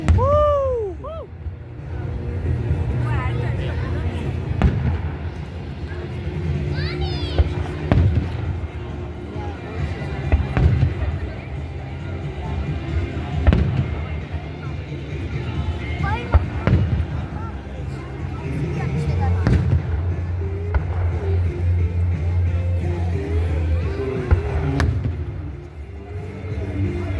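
Fireworks at a Lake Placid 250th celebration boom over a crowd, with scattered sharp bursts and crackles at a distance, a whistling rocket early on, and people talking and cheering throughout.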